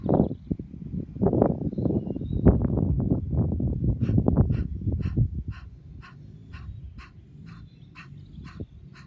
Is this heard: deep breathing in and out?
yes